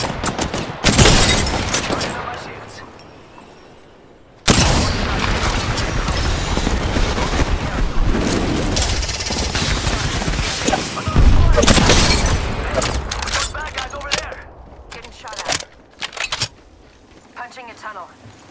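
Gunfire in the battle-royale game Apex Legends: loud bursts of shots and booming blasts that go on almost throughout, with a brief lull before the heavy firing resumes, then fading into scattered cracks near the end.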